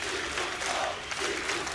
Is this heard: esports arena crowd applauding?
yes